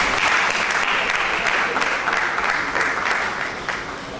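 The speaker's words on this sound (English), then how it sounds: "Can we give her a round of applause?" An audience at a lecture event gives sustained applause, a dense, even wash of clapping that holds steady and then eases slightly at the end.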